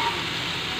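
Okra frying in a pan for Sindhi bhindi fry, a short steady sizzle that stays even and close, with no voices over it.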